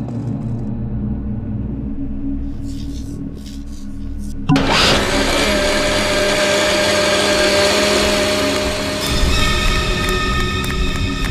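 A vacuum cleaner in a video game switches on partway through with a sudden loud roar, then runs as a steady, dense whine and rumble that continues to the end, with no talking.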